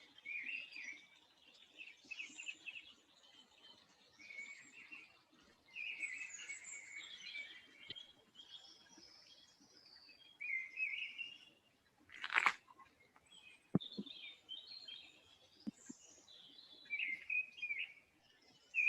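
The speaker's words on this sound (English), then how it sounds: "hopefully you're able to hear all that wonderful bird song" Birdsong at the JFK Arboretum: several birds chirp and warble almost continuously, with overlapping calls near and farther off, plus a few brief sharp knocks in the middle, and no talk.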